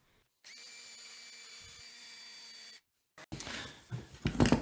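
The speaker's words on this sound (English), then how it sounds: "if you got one of these little drill attachment sanding pads, they work perfect for the indentation" A power drill with a sanding pad attachment whirs steadily for a couple of seconds, stops, then sanding and scraping noises on wood follow in uneven bursts.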